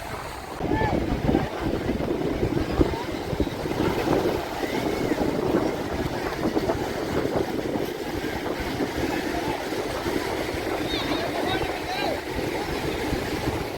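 Sea waves wash onto a beach in Chennai, a continuous rolling surf roar buffeted by heavy wind noise on the microphone, with voices faintly mixed in.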